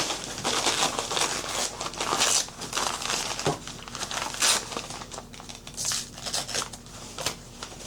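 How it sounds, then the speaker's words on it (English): Embroidery tear-away stabilizer being ripped off the back of fabric for an appliqué tote bag, close crinkly tearing and rustling in short repeated bursts. "just flip it over and tear away. Stabilizer is so easy, just literally yank it off"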